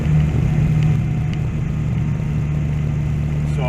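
A Dodge Viper exhaust rumbles through high-flow cats, a deep, loud, steady drone at idle with a slight throb, close by and without talk.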